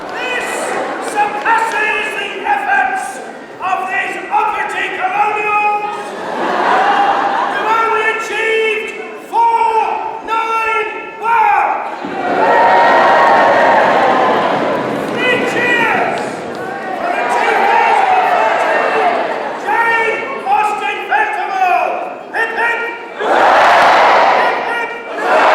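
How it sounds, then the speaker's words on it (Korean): A crowd of Britons gathered in traditional 1800s costume cheers and shouts loudly, with swelling bursts of voices and mixed chatter rising and falling over the scene. "환호하는 영국인들."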